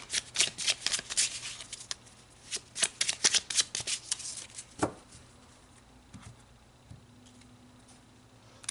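Tarot cards shuffled by hand in a quiet room, a quick run of crisp riffling flutters for about five seconds, then a few soft taps and settling sounds.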